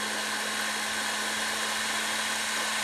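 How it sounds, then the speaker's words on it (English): A large electric mixer whisks strawberry cheesecake mixture with a steady, high-pitched motor whine and a tonal hum, running continuously at an even level. "you do get the job done that bit quicker if you have the larger mixer"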